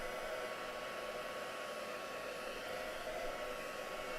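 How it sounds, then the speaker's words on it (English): A hair dryer blows on a craft piece with a steady, even whoosh, close and constant throughout, with no talking. "I shall dry it off and I'll show you what it looks like when it's fully dry."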